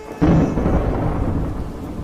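A thunderstorm with rain breaks in with a sudden close thunderclap that rolls into a deep, loud rumble, while steady rain hisses underneath throughout.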